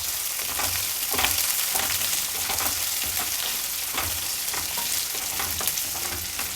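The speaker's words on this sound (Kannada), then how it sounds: "ಕರಿಬೇವಿನ ಸೊಪ್ಪು, ಈರುಳ್ಳಿ 2 ಮೀಡಿಯಮ್ ಸೈಜಿನ ಈರುಳ್ಳಿನ ಹಾಕ್ಕೊಂಡಿದ್ದೀನಿ" Sliced onions and curry leaves fry in hot oil in a pan for chitranna, giving a dense, continuous close sizzle with faint stirring scrapes throughout and no voices.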